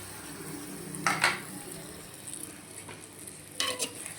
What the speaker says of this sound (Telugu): మంచిగా కలిపేసుకుందాం చీర ముక్కలు బెండకాయ ముక్కలు కలిపేసుకోవాలి